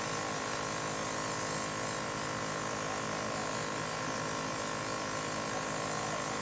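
A Temptu airbrush sprays makeup foundation, giving off a steady, unbroken buzzing hiss that stays constant and fairly loud for the whole stretch with no talking.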